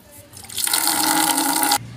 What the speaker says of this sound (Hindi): चलो इतने पानी भर रहे